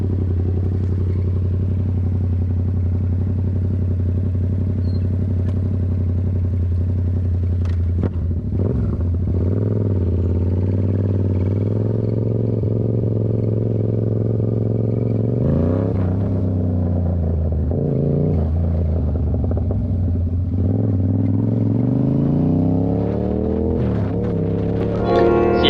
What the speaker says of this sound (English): It's time for the test ride on this 2018 Yamaha